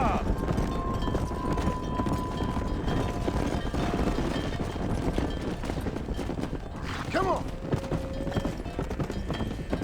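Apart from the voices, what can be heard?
horses' hooves clip-clopping in the video game Red Dead Redemption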